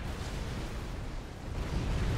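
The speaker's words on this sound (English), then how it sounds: "I think we even lost some ASF there to the ACU explosion" A commander unit explodes in the real-time strategy game Supreme Commander: Forged Alliance, a dense, sustained rumbling blast that holds steady and swells slightly toward the end, with no voices.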